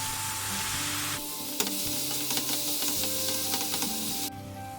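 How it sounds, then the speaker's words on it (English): Chopped halloumi cheese sizzles and fries with vegetables in a hot pan, a steady loud hiss that swells in the middle as pieces hit the oil, with a few stirring clatters and no talking. "I'm now going to add a block of halloumi cheese that I've chopped up"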